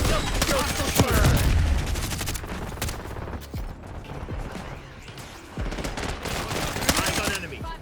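Rapid gunfire from a Call of Duty multiplayer match, dense bursts of automatic fire mixed with single shots throughout, loud and close, with scattered game voice callouts underneath.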